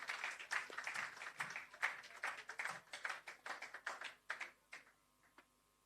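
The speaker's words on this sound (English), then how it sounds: "Give him a round of applause as well" Applause at a handing-over ceremony for a shelter recovery programme: a fairly quiet audience claps steadily for several seconds, the claps fading and thinning out to a few scattered claps before stopping.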